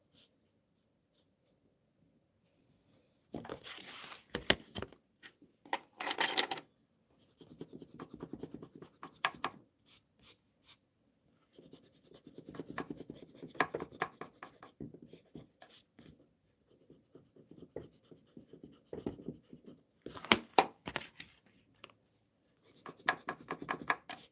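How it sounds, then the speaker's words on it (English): A pencil or pen scratches across paper in short bursts of strokes separated by quiet pauses, close and faint, with no talk, while a straight line is drawn for a fence post in a landscape drawing. "Let me get my paper and draw a straight line"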